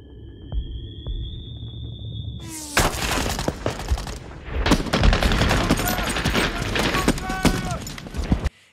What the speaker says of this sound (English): that bullet, that whizzing bullet, is quite loud and sort of brings him back a little bit